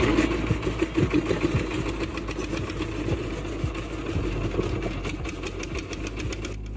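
A boat engine idles on Hasaigari beel, a wetland in Naogaon, with a continuous, fairly loud, rattling chug that holds steady throughout and has no talk over it.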